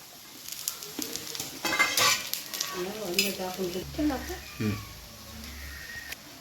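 Onion, coconut, chilli, garlic and coriander sizzle in a pan as a spoon stirs and scrapes, while a person talks over the cooking.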